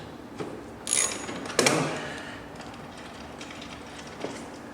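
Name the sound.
loosening frame bolt on a Yamaha R3 motorcycle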